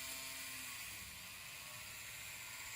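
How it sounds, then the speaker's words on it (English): A computer fan rubbing against a cable in a newly built PC makes a faint, continuous whirring hum with a thin tonal whine, steady and close. "the fan was rubbing against it"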